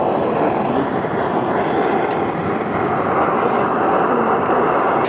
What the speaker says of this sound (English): the jet boil's heating up